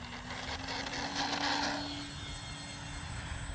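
A modified Arrows RC Trekker model airplane flies overhead in wind, its small engine giving a steady, moderately distant drone with a faint tonal whine that swells slightly midway and holds constant.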